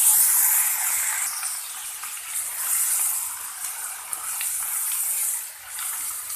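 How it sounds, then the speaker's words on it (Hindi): Onion paste added to hot frying oil that was already used for frying fish, giving a steady, loud hissing sizzle that keeps going with slight swells and dips. "ये देखें प्याज का पेस्ट हमने डाला है"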